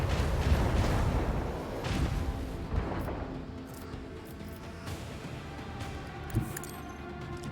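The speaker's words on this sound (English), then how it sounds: "Macro cannons, volley!" A macro cannon volley fires in the video game Warhammer 40K Rogue Trader. It produces a dense, rumbling barrage of heavy booms that rolls continuously and loudly, with a few sharper impacts standing out, and no voices.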